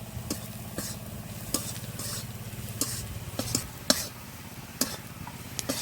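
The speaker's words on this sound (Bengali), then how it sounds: "এবার আবারও কিছুক্ষণ ভেজে নেবো" Onion with turmeric and red chili powder frying in a pan, a soft continuous sizzle punctuated by a spoon scraping and clinking against the pan at irregular intervals.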